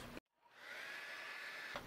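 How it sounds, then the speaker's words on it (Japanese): A hair dryer runs steadily, drying wet hair after a shower, with a loud continuous airy whoosh that starts after a brief click and holds alone for under two seconds. "だからドライヤーで乾かします。"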